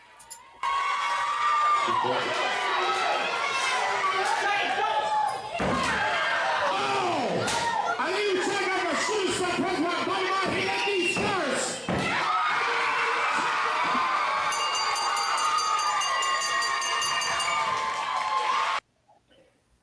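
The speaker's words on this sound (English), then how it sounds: "That reaction from the crowd literally hurt my ears." A wrestling arena crowd erupts in a sustained, deafening roar of cheers and shouts for Shane, with thuds and slams punctuating the din for nearly twenty seconds before it cuts off abruptly.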